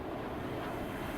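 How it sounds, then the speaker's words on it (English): Steady, muffled jet-engine rumble and airflow noise from a ToLiss A319 in Volotea livery in the X-Plane 11 flight simulator, even and unbroken throughout. "That flyby was definitely something."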